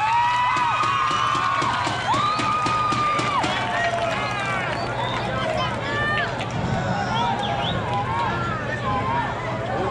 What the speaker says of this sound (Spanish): Solo aplausos, señoras y señores